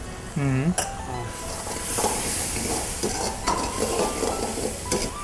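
Coriander, cumin and masala powders fry in a pan for a prawn curry, a soft steady sizzle under repeated scraping stirs, with a metallic clink at the start and light utensil taps against the pan.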